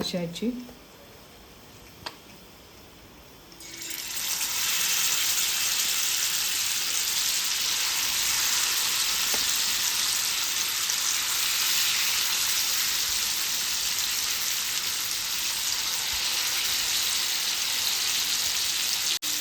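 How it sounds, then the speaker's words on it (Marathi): Jitada (brackish-water fish) and tamb fish hit a hot pan. After a few seconds of quiet room tone, a dense, steady frying hiss starts and holds evenly to the end. "ही दुसरी मच्छी आहे ती फ्राय करून घेते जी तडा आणि ताम"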